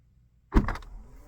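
A BMW's powered right rear door unlatches and begins opening on command, a sudden mechanical thunk followed by a short motorized whir fading away inside the car.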